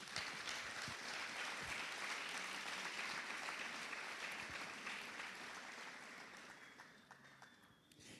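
Audience at a church conference breaks into sustained applause, a dense steady clapping from a large crowd that holds level for several seconds and then slowly fades.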